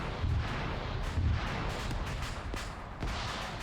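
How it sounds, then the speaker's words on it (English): A BTR armored vehicle blows up in the Arma 3 video game, a dull, rumbling blast with a thudding boom and lingering low roar that stays moderately loud throughout. "So that BTR has gone up."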